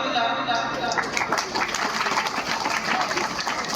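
Applause from a village government school audience welcoming students, a dense, steady wash of clapping throughout with faint background voices mixed in.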